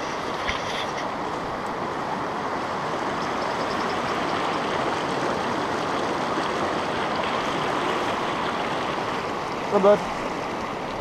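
A river flows with a steady broad rush of water in the backcountry of James Peak National Forest, continuous and close, with a brief spoken remark near the end.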